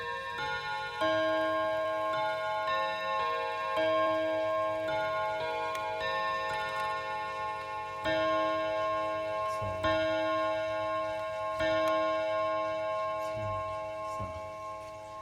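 An old German mechanical clock ticks steadily and evenly, with faint resonant tones ringing underneath, no voices.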